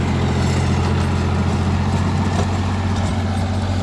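A John Deere 5050D tractor runs with a heavy-duty 7-foot Shaktiman rotavator, its engine a loud, steady, unbroken low drone close by.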